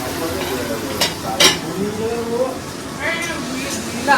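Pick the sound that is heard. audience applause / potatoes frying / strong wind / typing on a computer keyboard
potatoes frying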